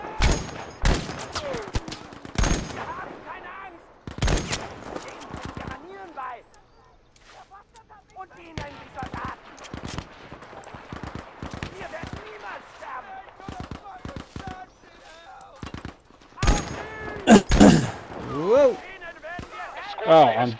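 Sharp bursts of video game gunfire strike in clusters around a player under attack, loud cracks separated by quieter gaps, with someone talking excitedly between the shots.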